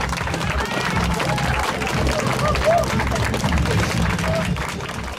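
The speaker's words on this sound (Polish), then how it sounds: "Brawa" Crowd applause at an outdoor running festival, steady dense clapping with crowd noise and voices mixed in throughout.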